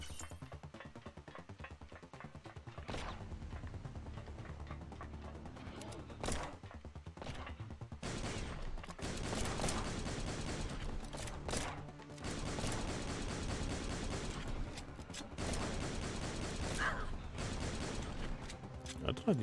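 Gunfire in the video game Dimension Drifter, bursts of rapid shots and loud dense fusillades among mechanical game effects, with quieter stretches early on and a heavier, sustained barrage through the latter half.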